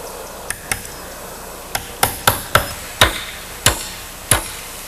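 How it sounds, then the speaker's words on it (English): Hammer driving nails into the stud ends at a wooden wall corner while framing a garage, about a dozen sharp ringing blows at uneven intervals, clustered in quick bursts, close and alone. "we drive several nails into the stud end of this wall into the corner of this wall"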